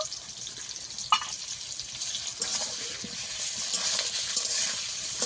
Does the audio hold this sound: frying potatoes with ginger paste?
yes